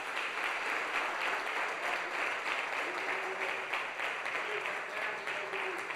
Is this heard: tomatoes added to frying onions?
no